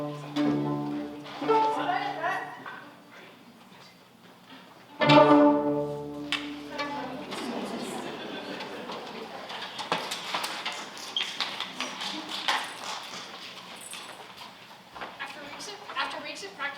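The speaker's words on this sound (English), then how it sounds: "The very first sound that we made on our instruments was created by using a technique called Pizzicato." A middle school orchestra's string instruments play pizzicato, fingers plucking short, decaying notes, before the ensemble swells into a louder, fuller passage.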